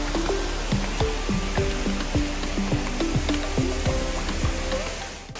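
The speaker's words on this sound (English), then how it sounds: "That's the waterfall" Temurun waterfall in Langkawi, a steady, full rush of falling water heard from nearby, continuous with no talk over it.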